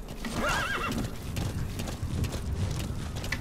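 A horse whinnies in a high, wavering call, followed by steady hoof clops and a dense, busy background, in the video game Metal Gear Solid V: The Phantom Pain.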